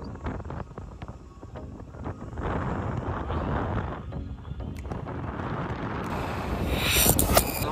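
Cold wind blowing steadily outdoors in Ekola Valley, a continuous rushing roar that buffets the microphone and swells louder toward the end, with no voices.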